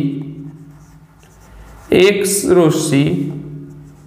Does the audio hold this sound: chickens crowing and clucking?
no